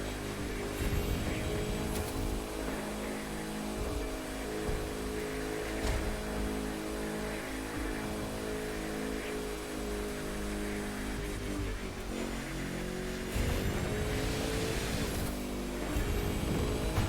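Bugatti Chiron engine in the racing game The Crew 2, held at high revs with a loud, steady drone and brief dips and surges as gears shift, with no talking.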